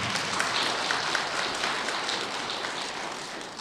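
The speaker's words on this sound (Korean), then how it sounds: "우리 두 쌍의 신혼부부를 위해서 축하의 박수 부탁드리겠습니다" A congregation at a Buddhist dharma gathering claps to congratulate two newlywed couples, a soft, even wash of applause that sounds somewhat distant and slowly fades.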